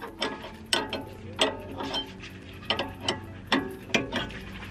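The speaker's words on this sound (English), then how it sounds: "it's very challenging to put the wrench right in there" A ratchet wrench tightening a sway bar end link on a BMW E46 330i: a series of evenly spaced clicking strokes, close and crisp, each pull giving a short burst of ratcheting.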